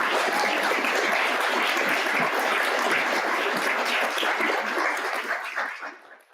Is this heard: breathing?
no